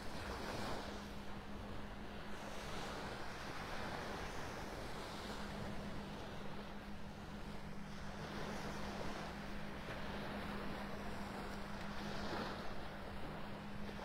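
Small ocean waves wash onto the beach at Delnor-Wiggins in North Naples, Florida, a steady soft surf roar that swells gently every few seconds, mixed with wind buffeting the microphone and a low constant hum, with no voices.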